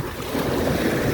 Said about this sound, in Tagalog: Yung hampas ng alon sa dalampasigan.